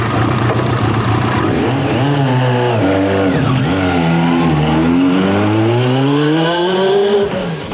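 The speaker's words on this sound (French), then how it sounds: "Raymond roule pour l'instant sur une Yamaha YZF 750, revue par ses soins." A customised Yamaha YZF 750 motorcycle with an unmodified engine runs close by, its steady drone rising and dipping through several revs before settling into a climbing pitch.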